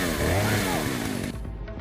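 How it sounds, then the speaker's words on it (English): A chainsaw in the video game Resident Evil 4 revs loud and close in a continuous rising, snarling drone, then drops in pitch as it idles. "It's a chainsaw."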